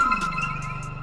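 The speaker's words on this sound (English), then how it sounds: "it just kind of has that like fluttery effect in the background" A nylon-string sample in a beat, processed with the Portal plugin, gives a sustained tone with a wobbling, fluttery shimmer and soft pulsing bursts up high. It is steady, moderately loud and heard alone for about a second.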